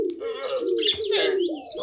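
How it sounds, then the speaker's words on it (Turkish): Budgerigars in a Minecraft mod video game give bright chirps and warbling calls over a steady tonal hum, close and fairly loud, with no talking. "Muhabbet kuşu bunlar arkadaşlar."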